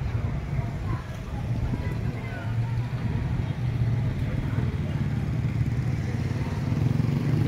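A motorcycle engine runs in the town of Duero, Bohol, giving a steady, close, low rumble that holds at an even level from start to finish.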